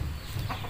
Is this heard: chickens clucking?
yes